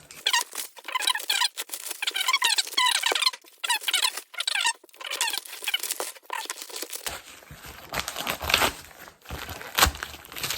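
Plastic foil wrapping being handled while unpacking a parcel of live tarantulas, with rapid squeaky crinkling and crackling in bursts, then rougher rustling and tearing of packaging.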